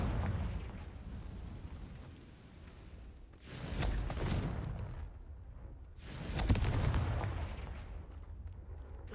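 Confringo fire spell blasts in Hogwarts Legacy, two big booming explosions a few seconds apart, each swelling into a broad roaring burst that fades into a low rumble.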